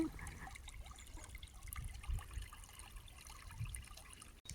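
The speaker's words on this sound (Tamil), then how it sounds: "கம்மாயில் இருக்க தண்ணி பார்த்திங்களா, அந்த தண்ணி இந்த மடை வழியாக தான் இந்த பக்கம் வரும்." Water from a village reservoir runs through a sluice gate into an irrigation channel, a faint, steady trickle and gurgle with occasional small splashes and no voices.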